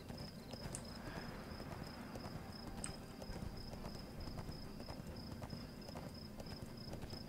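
Horse hooves clip-clopping in a steady walking rhythm while riding in the online game ArcheAge, with faint insect chirps and an ambient hum underneath.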